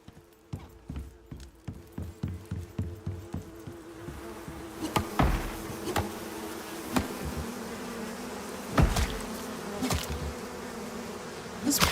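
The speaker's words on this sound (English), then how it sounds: "Those bees make some wicked noises." Insects in a cave-dwelling video game, read as a buzzing drone with a rhythmic series of soft clip-clop-like taps at first, then scattered sharper clicks over a steady hum.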